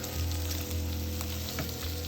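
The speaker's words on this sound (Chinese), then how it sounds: "火腿片也要煎一下。" Ham slices fry in a pan over medium-low heat, a steady, dense sizzle holding at an even level throughout, close by, with no voices.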